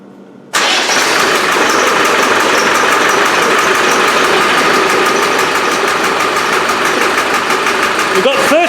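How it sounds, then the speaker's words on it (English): A Land Rover 110 engine cranks and catches almost at once, then settles into a loud, close, steady diesel-like idle with a rhythmic knock, and a faint voice near the end. "let's start the car."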